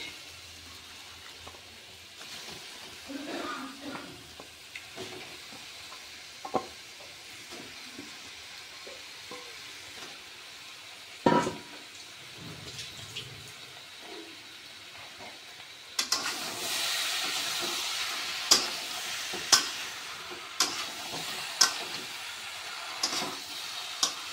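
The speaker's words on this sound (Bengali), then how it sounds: "এবার আগে থেকে মেরিনেট করে রাখা চিকেনগুলি দিয়ে দিচ্ছি।" Marinated chicken goes into spiced masala in a pan and fries with a steady hiss, scraping stirs and occasional clinks, and the sizzle grows louder and brighter in the later part.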